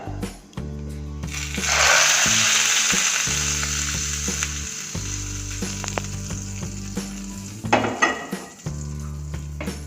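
A tadka for lemon rice hits hot oil and bursts into a loud hiss that slowly fades over several seconds, with a few metallic clinks near the end, all over background music.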